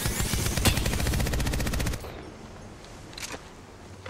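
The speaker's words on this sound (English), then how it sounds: "Shooting." Rapid automatic gunfire in Apex Legends, a loud, fast, even burst lasting about two seconds, followed by quieter game ambience and a few faint distant shots.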